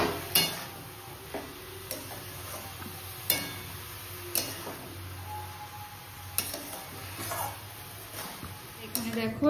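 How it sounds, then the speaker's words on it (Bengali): Bottle gourd stirred in a pan with a spoon, then covered with a lid: scattered metallic clinks and scrapes near the mic, with a sharp lid knock, faint sizzle beneath and a voice talking over it. "এবার লাউটাকে দিয়ে দেবো। একটু নেড়ে ঢাকা দিয়ে দেব।"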